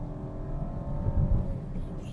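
Maruti Suzuki Dzire 2024 engine revving from inside the car, a steady, moderately loud drone that climbs briefly in the middle, with no speech over it.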